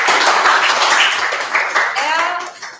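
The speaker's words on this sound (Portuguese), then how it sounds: "Olha, palmas." Crowd applause, a dense burst of many hands clapping close by, fading slightly toward the end, with voices mixed in.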